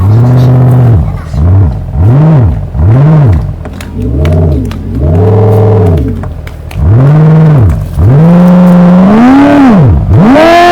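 A Mahindra BE 6 electric car, switched on to play its synthetic exterior sound: loud, repeated whooshing tones that rise and fall in pitch, each lasting about a second, with a longer rising sweep near the end.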